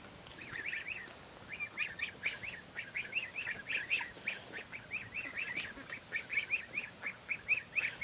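Nearly full-grown ducks quack and call repeatedly in a busy, rhythmic chatter at moderate distance, with no talking over them.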